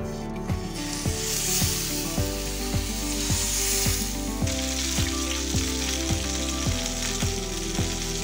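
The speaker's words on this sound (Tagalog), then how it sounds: "Ang uunahin ko pong part sa pagluluto ay dito sa may skin po niya." Chicken inasal sizzles skin side down in a pan, a steady close hiss of frying heard under background music, with no talk.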